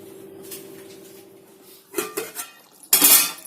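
A pot lid goes onto the pan of capsicum curry: a couple of light metallic clinks, then a louder clattering clank as the lid settles, close up with no talking.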